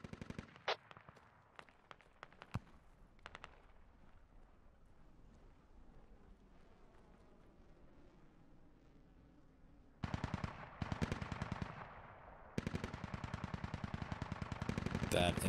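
Gunfire in the video game SquadOps: scattered single shots at first, then dense machine-gun bursts that fill the later part loud and close, with voices talking over the action.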